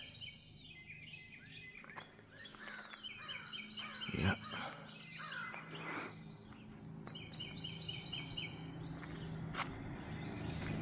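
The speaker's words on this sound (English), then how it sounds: "Birds are up early this morning." Birds chirping and singing early in the morning outdoors by a bridge campsite, a faint layered chorus of calls over steady background hiss, with one person briefly speaking.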